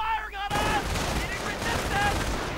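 Battle gunfire in a real-time strategy video game, with rapid bursts of shots and explosions crackling densely after a brief quieter opening, mixed with synthetic tones and game sound effects.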